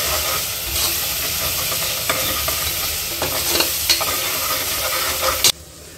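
Red chili, coriander powder and salt sizzle and fry in hot oil in a pan while being stirred, a loud steady crackling hiss with repeated scraping strokes of the spoon, stopping abruptly near the end.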